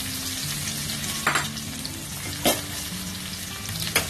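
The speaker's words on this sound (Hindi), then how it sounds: "अब इसमें डाल देंगे हम प्याज, प्याज को हमें अच्छे से लाल कर लेना है।" Onions frying in a pan for a liver fry dish: a continuous, close bright sizzle with a few brief louder hisses as the onions are stirred.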